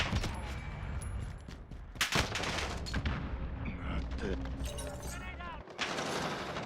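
Gunfire in Call of Duty: Modern Warfare, with repeated shots and bursts crackling through busy game audio and a sharp loud crack near the middle, while voices talk over it.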